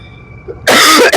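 A man breaks into a sudden loud cough after a quiet moment, one harsh burst with a brief second push, close to the microphone.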